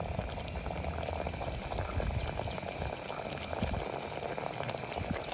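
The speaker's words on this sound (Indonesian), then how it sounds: "Sudah dah mendidih, dia akan ada pressure, dia akan tolak lah kita punya 18 gram coffee bean" Coffee boiling up in an espresso moka pot loaded with 18 grams of ground beans, a steady close bubbling and gurgling hiss that runs the whole time with no talking.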